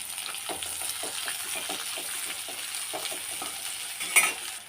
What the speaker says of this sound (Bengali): পেঁয়াজটা লাল লাল করে ভেজে নিয়ে